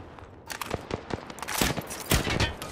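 Rapid gunfire in the game Apex Legends striking the player, a dense burst of sharp cracks that grows heavier and more continuous in the second half, loud and close.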